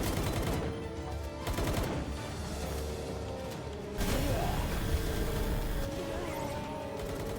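A creature in the Palworld game fires a laser at defensive turrets, a dense continuous crackling barrage with whooshing bursts over steady background noise, loud and sustained without a break.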